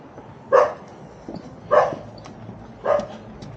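Dog barking three times at a roadside spot on a ride from Baguio to Nueva Ecija, single moderately loud barks spaced about a second apart over quiet background.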